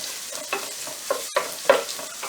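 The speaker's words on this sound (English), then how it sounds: "You have to fry chopped onion." Chopped onion with whole garam masala fries in a pan, a steady sizzle broken by several scraping stirs, close up with no voices.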